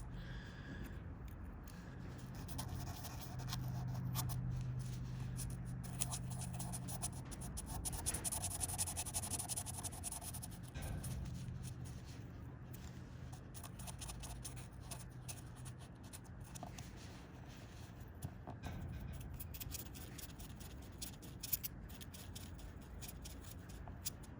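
Sandpaper slid by hand over a wood carving, giving a soft, steady rubbing and scraping that stays faint and close throughout with no talking.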